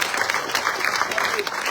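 Audience applause greeting Patrice Gémieux as a running mate is presented at a French political event, a dense steady wash of clapping throughout, close and fairly loud.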